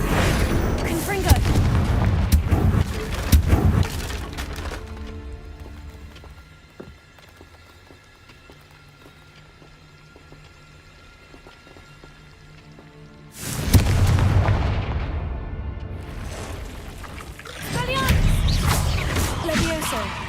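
Confringo fire-blast spells in a Harry Potter video game, heavy booming bursts in two loud clusters at the start and end with a quieter stretch of game ambience between, mixed with game music and sound effects.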